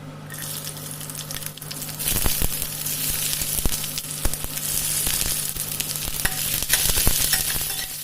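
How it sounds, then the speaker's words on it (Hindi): Asafoetida, garlic, green chillies and onions sizzling and crackling in hot oil, with occasional stirring clinks from a utensil, close and steady throughout, no voices. "गरम तेल में हींग, लहसुन, हरी मिर्च, प्याज का तड़का लगाया।"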